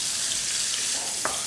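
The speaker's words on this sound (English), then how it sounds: "That nice hearty sizzle." Beef filet sizzling in a hot frying pan, a steady loud hiss of searing meat throughout with a small clink near the end.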